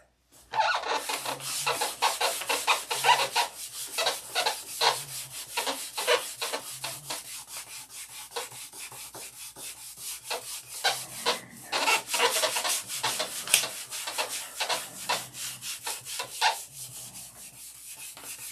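Steady back-and-forth rubbing of 1000 grit sandpaper taking paint off a surface, a close, gritty rasping in quick strokes that continues for nearly twenty seconds with brief pauses, loud and unaccompanied by voices.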